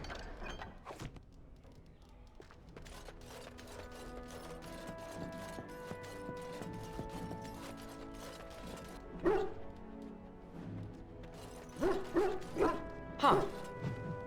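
A dog in the Dragon Age: Origins video game barks and whimpers in short yips over game music and mechanical clicks, with a few sharper bursts toward the end.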